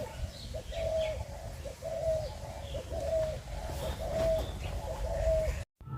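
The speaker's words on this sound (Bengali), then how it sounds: "বাড়ির পিছনের দিকে আসলে কত পরিমাণে পাখির কিচিরমিচির ডাক" Birds call behind a house on a sunny, breezy day: a dove-like coo repeats about once a second, steady and fairly close, with faint chirps around it, before cutting off abruptly.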